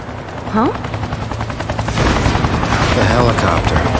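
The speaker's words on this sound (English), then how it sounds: "The helicopter. I remember." Helicopter rotor chopping loudly and steadily in the video game XIII+, mixed with bursts of gunfire-like rattling and rising in intensity partway through.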